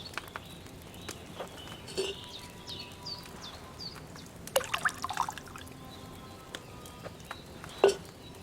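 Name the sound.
pouring liquid into cauldron in video game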